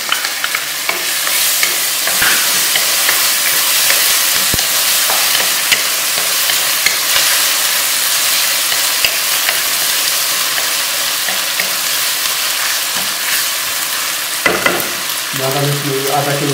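Chopped onion with ginger garlic paste sizzles loudly and steadily in a hot pan for cabbage keema, with occasional stirring scrapes and clinks close by and no voices.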